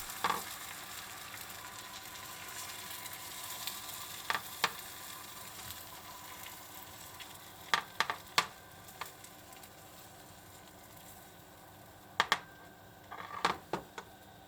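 Oil sizzles and hisses steadily as an egg mixture fries in a pan for a Japanese omelette, with sharp crackles and pops bursting out now and then, close and fairly loud.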